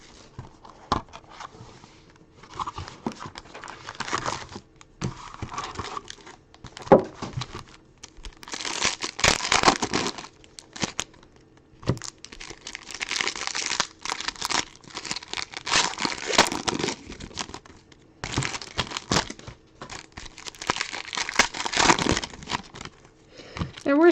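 Plastic wrap being cut and crinkled on basketball and baseball trading card packs during a card break, with bursts of close crackling, rustling and tearing that come and go in short irregular spells.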